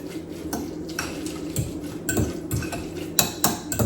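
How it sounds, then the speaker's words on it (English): Garlic being stirred in a pan for lobster seafood egg roll filling, a run of close metallic taps and scrapes of a utensil against cookware over a low sizzling background. "Stir that baby up."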